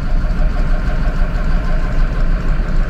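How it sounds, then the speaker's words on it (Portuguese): A Mercedes-Benz bus diesel engine idles steadily at a bus exhibition in Brazil, a low, rumbling chug that stays constant throughout. "Pra quem gosta de escutar som de motor"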